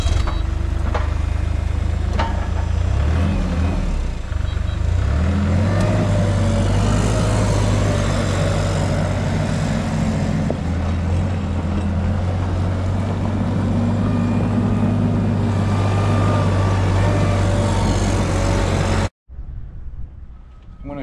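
A Kubota R430 wheel loader runs close by with a steady low diesel drone, its pitch shifting as the engine revs up midway, before cutting off abruptly near the end.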